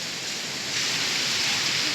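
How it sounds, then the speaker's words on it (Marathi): Sudden unseasonal rain falls in the Konkan countryside near Sangameshwar as a steady, even hiss of moderate loudness. The rainfall holds constant throughout, with no distinct drops standing out. "मला वाटतं हा अवकाळी पाऊस आहे"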